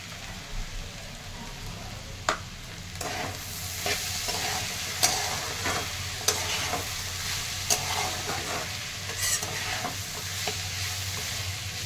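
Potatoes sautéed in a pan with salt, for a potato, dal and onion vegetable dish, give a steady sizzle with a dozen sharp scrapes and taps of the spoon against the pan spread over the whole stretch, with no voices.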